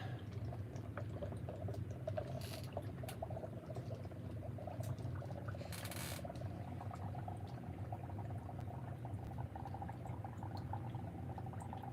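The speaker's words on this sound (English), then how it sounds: "put it in some hot water, and that really just started to go bubbly again" Steady low bubbling of hot water with a continuous churning texture, a couple of brief sharper clicks and hisses over the top, close and fairly quiet with no talking.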